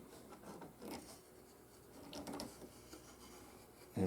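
Sandpaper rubbing over the wooden body of a handmade hollow or round plane, producing a few faint, scratchy strokes at close range with quiet gaps between them and a sharp knock at the very end.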